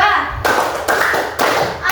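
Fourth-grade schoolchildren in a classroom clap chant, three crisp unison claps spaced evenly, loud and close, after a brief voice.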